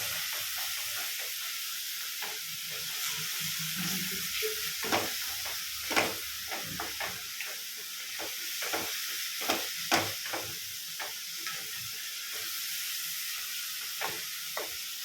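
Green chilies and a paste sizzle and fry in a pan, stirred now and then with scraping clicks over a steady hiss, close and moderately loud with no talking.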